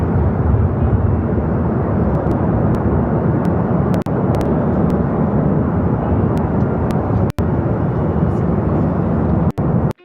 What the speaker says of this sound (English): The Doomsday plane